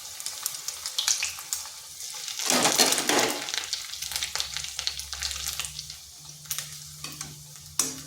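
Bread pieces fry in hot oil for a sweet bread dessert, giving a steady close sizzle with stirring scrapes and a louder crackling burst in the middle, then a low hum underneath.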